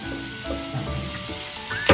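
Capsicum tossed into a hot pan and stir-fried for hakka noodles gives a steady close sizzle, broken by a few scraping stirs and a brief clatter at the end.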